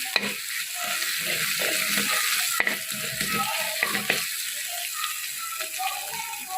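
Ingredients for a spicy sweet-sour pomegranate chutney fry in a pan, a steady loud sizzle broken by repeated scraping clicks of a spoon stirring against the metal.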